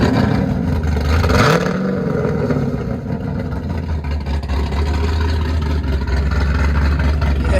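A loud, throaty Shelby GT500 engine with catless race pipes rumbles continuously, with a brief rev surging early on before settling into a steady, heavy idle.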